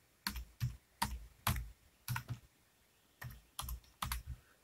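Keys clacking on a computer keyboard as a Wi-Fi password is entered, about nine distinct presses in uneven bursts with short pauses between them, close and fairly quiet with no talking.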